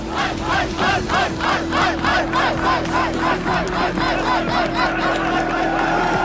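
A packed esports arena crowd at a League of Legends EU playoff match (Fnatic vs H2k-Gaming) roars and chants in steady rhythmic waves, loud and sustained throughout.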